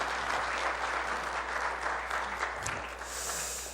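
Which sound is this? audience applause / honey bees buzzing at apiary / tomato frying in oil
audience applause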